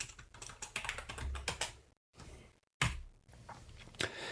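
Typing on a computer keyboard, with quick, irregular clicking keystrokes close by, a brief pause, then another burst of keys alone.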